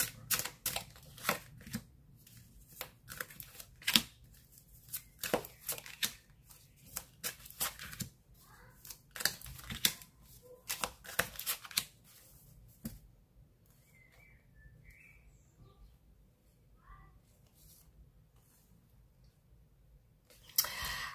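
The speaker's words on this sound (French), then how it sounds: "je vais vous faire un dernier tirage" Tarot cards shuffled by hand for a reading, with rapid riffling bursts and crisp card clicks during the first half, then a quieter stretch of soft handling before a final flurry.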